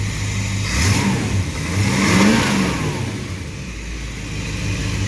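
A 1929 Chrysler coupe's 360 V8 revs up close, rising and falling twice in loud, rough sweeps over a steady idle rumble.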